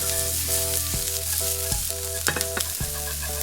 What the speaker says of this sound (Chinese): 锅烧热，倒油，先下入蒜末和切碎的红葱头，